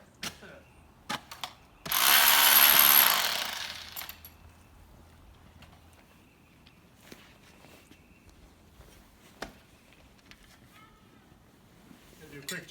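A saw cuts concrete and rebar at a pool-house job site with a loud, harsh grinding burst lasting about two seconds. Scattered clicks and clanks follow in a quiet space.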